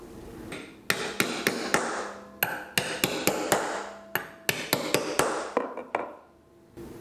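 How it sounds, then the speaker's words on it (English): A small hammer tapping three carriage bolts down from the top side into a pre-machined industrial sewing table for a Juki DDL-8700, a string of sharp close knocks in quick irregular bursts with brief pauses between. "Install the 3 carriage bolts from the top side with a small hammer."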